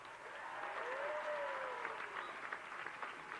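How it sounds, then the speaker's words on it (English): An audience at the 57th annual Carol of Lights holiday event breaks into applause, a broad, fairly distant wash of clapping that builds and holds steady, with a faint tonal whistle rising and falling partway through. "Let's give them a round of applause"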